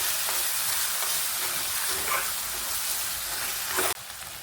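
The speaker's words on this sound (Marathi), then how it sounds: "आणि छान तेल सुटेपर्यंत परतून घेऊ." A masala of homemade black masala, chicken masala and coriander sizzles in oil while being sautéed for a village-style chicken rassa, a steady close frying hiss with faint stirring that drops off at the end.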